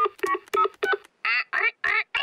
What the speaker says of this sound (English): I'll ring Granny Pig.